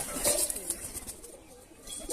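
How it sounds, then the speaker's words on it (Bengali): A pigeon coos softly nearby in a few short, low phrases, with faint scattered clicks and rustles around it. "তো এটা হচ্ছে তার মধ্যে একটা পায়রাটা, বেশ ভালো পায়রা।"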